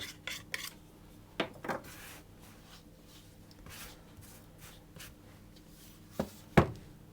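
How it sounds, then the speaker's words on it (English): A knife runs around the edge of a pastry tart base for a Manchester tart, giving a few quiet scraping and rasping strokes with scattered soft taps against the dish, close up in a still kitchen. "I'm going to just take a knife and cut around the edge"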